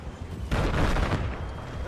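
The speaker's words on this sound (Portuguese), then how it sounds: "tiro." Gunfire in the Battlefield 4 campaign, a sudden loud blast with a rumbling, crackling tail lasting over a second, heard with no talk over it.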